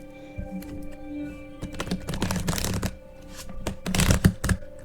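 A deck of tarot cards is shuffled by hand in repeated quick riffling bursts and soft slides, close and fairly loud, with no talking.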